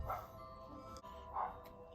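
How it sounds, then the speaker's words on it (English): Dogs bark faintly in the background in two short, separate bursts, heard from a distance in a quiet room. "Sorry if you can hear the dogs barking."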